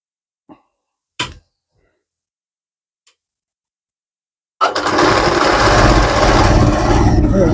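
Sewing machine stitching fabric, starting after a few faint ticks and taps, then running as a loud, steady, close mechanical whir until the end.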